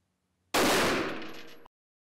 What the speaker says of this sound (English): This is a Federal 115 grain full metal jacket, 9mm round. We're going to do our first shot.